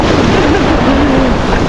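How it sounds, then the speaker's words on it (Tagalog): Strong surf at San Roque Beach churns in a loud, continuous rush of breaking water and wind buffeting the microphone close up, with a faint vocal sound briefly audible over the roar. "Lakas ng alon."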